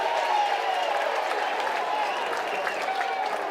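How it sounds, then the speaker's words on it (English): A baseball crowd at an LSU versus Tennessee game applauds an umpire's call, a steady wash of distant clapping and crowd noise under a radio commentator's voice. "they just applauded that call"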